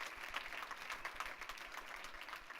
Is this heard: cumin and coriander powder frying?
no